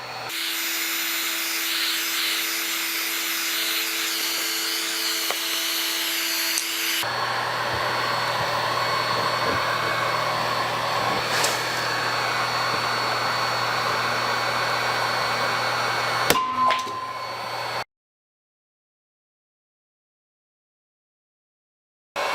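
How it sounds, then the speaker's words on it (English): Heat gun blowing steadily on a dented plastic Jeep Wrangler bumper, a continuous airy whine and rush that shifts tone partway through, with a brief click before it cuts off into silence. "So I'm gonna focus the heat gun just on that area here."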